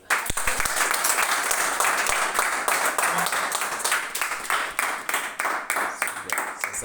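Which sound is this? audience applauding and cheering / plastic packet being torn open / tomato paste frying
audience applauding and cheering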